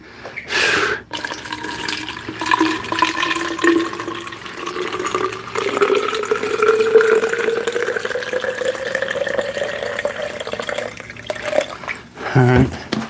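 Water runs steadily into a bottle, a continuous pouring and filling sound whose pitch rises slowly as the bottle fills, ending with a brief clunk.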